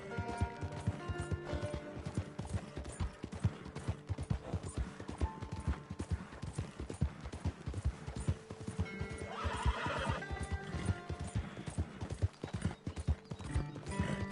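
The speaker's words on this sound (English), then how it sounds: "Kind of pushing the horse kind of hard." Horse galloping in Red Dead Redemption 2, pushed hard: a steady rapid clip-clop of hooves throughout, with loud whinnies and neighs breaking in, especially near the middle, and no talk over it.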